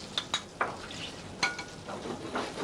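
Frog legs fry in browning butter with a soft, steady sizzle, broken by a few sharp clicks of a utensil against the pan, close and fairly quiet.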